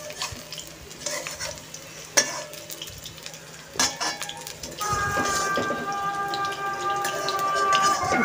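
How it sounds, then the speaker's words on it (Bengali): Cauliflower pieces fry in hot oil, a steady crackling sizzle with a few sharp knocks of stirring early on, growing denser and louder in the second half with a thin high hiss running through it. "দেখো এই কটা ছেড়েছি, এই কটা ভেজে তুলে নিয়ে আবার পরেরগুলো ভাজবো।"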